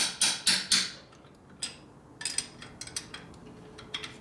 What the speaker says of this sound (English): then you hammer a little extra out of it